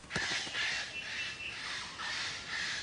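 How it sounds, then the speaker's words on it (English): An eclectus parrot screams at other birds in an ancient forest, giving a run of harsh, raspy squawks that repeat in uneven bursts at moderate volume, with no voices. "It screams at other birds, especially females"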